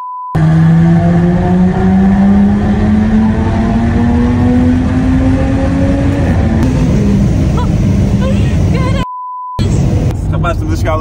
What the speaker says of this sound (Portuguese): o som deste carro é